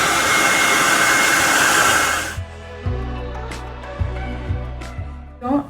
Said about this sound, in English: I'm going to just start blow drying my roots in all directions.